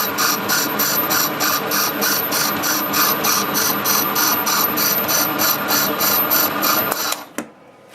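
Valve faces from a 1988 Jeep XJ engine being ground on a machine, a loud, steady whirring grind with fast rhythmic pulsing that cuts off abruptly near the end.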